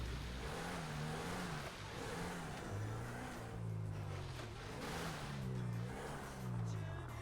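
A car engine in a role-playing video game revs in rising and falling waves while the vehicle backs up, a steady mid-pitched drone under faint background noise.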